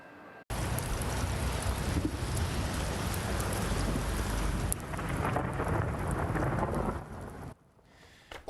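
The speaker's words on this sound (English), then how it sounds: "The pops there, that's rain." Heavy overnight storm rain pours steadily in San Marcos, dense crackling and popping drops hitting surfaces close by, with low rumbling thunder underneath, continuous and loud before cutting off near the end.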